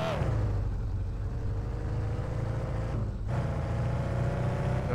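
Car engine from the driving game Car For Sale Simulator 2023, a steady loud drone with revving layers as the vehicle moves, briefly dipping around three seconds before resuming.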